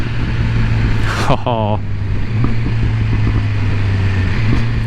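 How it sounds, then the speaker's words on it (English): A 2022 BMW S1000R motorcycle engine idles and rumbles as it downshifts with auto blip, with a quick rising blip of revs followed by a steady low thrum while a person talks briefly. "All the way down the first gear with that auto blip."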